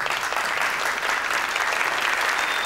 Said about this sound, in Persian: دوستا تشویقشان کنید.